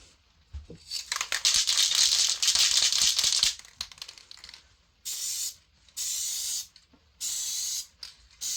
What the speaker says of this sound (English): And just a spray on there.